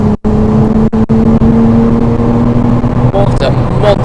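A 400 bhp Nissan Skyline R33 GTR engine idles and revs with a steady, loud, rumbling drone, rising slightly toward the end, with a voice speaking over it.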